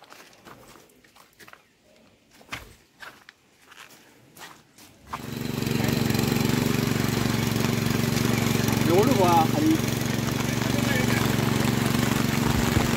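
Scattered footsteps and knocks give way to a tractor engine that starts up and then runs at a steady, loud, close chug in a muddy monsoon paddy field in Sindhudurg, Konkan, where the ground is being ploughed for planting.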